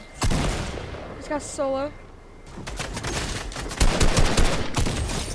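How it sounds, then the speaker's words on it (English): Rapid bursts of gunfire crackle through an arena trios match in a video game, loud and close, with a brief burst early then sustained firing toward the end while a player talks over it. "Help, I'm getting shot at."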